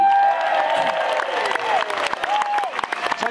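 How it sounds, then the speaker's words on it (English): An outdoor festival crowd applauds folk dance teams at Sidmouth Folk Week, with dense clapping and a few cheers and whoops, and a faint whistle-like tone drifting over it. "give them a round of applause in no particular order"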